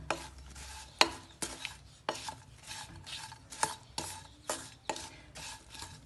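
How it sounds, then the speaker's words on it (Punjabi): A spoon mixes salt through a pickle of radish and green chillies, giving regular scraping, clattering strokes about twice a second, close and moderately loud, with no voices. "ਨਮਕ ਦਾ ਆਪਾਂ ਇੱਕੋ ਹੀ ਚਮਚਾ ਪਾਵਾਂਗੇ ਹੁਣ ਸਾਰੇ ਨੂੰ ਮਿਕਸ ਕਰ ਦਿੰਨੇ ਆਪਾਂ"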